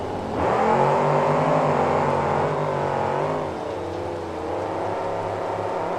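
Monster trucks Doggone Crazy and Comet racing at a 2008 KORR Monsters event in Oakland, California, their engines roaring loud and sustained, revving and shifting pitch as they push through a turn.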